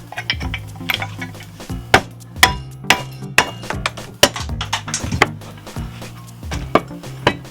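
Metal hammer blows drive a front subframe spigot into place during an Insignia 2.8 V6 AWD subframe assembly, a series of sharp, loud, irregular strikes with ringing clanks, up close with no talk.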